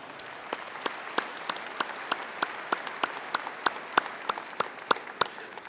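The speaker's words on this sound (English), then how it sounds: "Let's give El Paso County another round of applause." Audience applause fills a large convention hall, a sustained wash of clapping with distinct sharp claps standing out in a loose, even rhythm.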